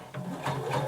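A sewing machine stitches up to a marked dot on a bodice piece, then backstitches, its motor whirring steadily and close by with a slight change in pace partway through.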